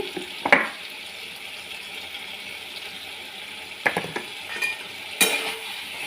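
Okra curry with whisked curd stirred in a pan, giving a low, constant simmering sizzle broken by a few distinct spoon scrapes and clinks against the metal, near and fairly loud.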